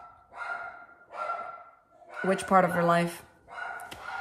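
Two pet dogs barking at a parents' house, a run of sharp, repeated barks close by, with a person talking over and between them.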